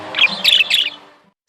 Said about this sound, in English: Some birds hiss.